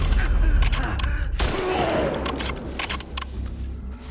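A dense run of gunshots from The Last of Us Part II, heard as many short sharp cracks in quick succession over a busy, loud background with rumbling.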